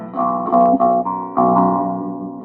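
Clean electric guitar played through a small solid-state amp with an IC power amp, a few strummed chords ringing out steadily and close, with a fresh attack near the end and no talking.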